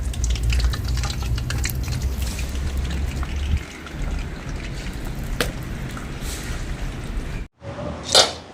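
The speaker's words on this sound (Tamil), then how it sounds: "நல்லா எண்ணெய் சூடாயிட்டு கத்திரிக்காய் பொரிக்க போடுவோம்" Steady sizzling crackle of eggplant frying in hot oil, close up and continuous, ending with a brief pause and a short clatter.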